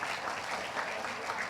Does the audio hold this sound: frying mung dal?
no